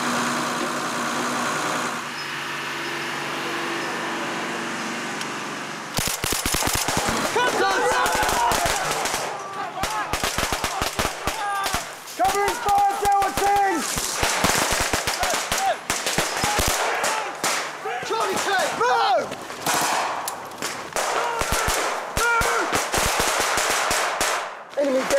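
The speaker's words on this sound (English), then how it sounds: "putting down covering fire, Charlie team into the assault if need be" Machine guns lay down covering fire during a commando military training assault, with loud rapid bursts and rattling volleys that come hard and continuous after a quieter engine-like rumble at the start.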